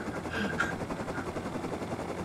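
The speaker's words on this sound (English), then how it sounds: "I'm not gonna be able to fly a helicopter straight anymore after this." A helicopter in the video game Rust gives a continuous low rotor drone with a faint rhythmic pulse, steady and moderately quiet, with no talk.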